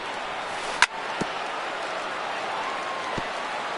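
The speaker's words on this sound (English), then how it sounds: "And another foul ball" A bat connects with a foul ball in a PS4 baseball video game, a single sharp crack followed by two softer knocks, over a steady crowd-noise bed.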